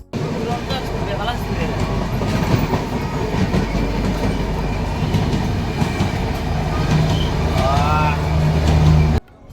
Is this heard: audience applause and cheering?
no